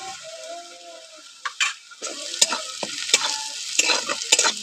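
Onions stirred and frying in a pan for a Bengali-style patol (pointed gourd) curry, a steady close sizzle broken by repeated scraping, clacking strokes of a utensil, no talk.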